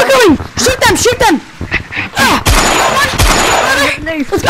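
Rapid bursts of gunfire shooting zombies in Gorilla Tag, mixed with excited voices talking over the shots in a busy, loud scene.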